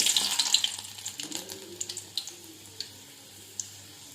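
Four crushed garlic cloves drop into hot mustard oil and crackle and sizzle, loudest at first, then thin out into scattered pops and spits. The sound is close, with no talking.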